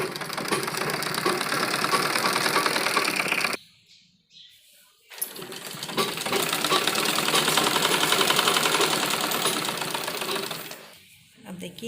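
A sewing machine stitches along the edge of a men's kurta, running in two long, steady, loud bursts separated by a short pause.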